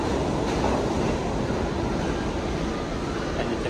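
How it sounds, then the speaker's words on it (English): An NYC subway R or W train pulls into the platform, a steady loud rumble and wash of wheel and track noise that holds broad and close throughout with no voices. "We're looking for a R or W train. And looks like it's here."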